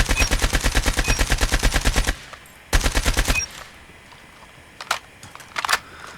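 The ASM10 submachine gun fires in a first-person shooter game in a long, rapid automatic burst, then a shorter burst after a pause, loud and close, followed by quieter in-game clicks and thumps.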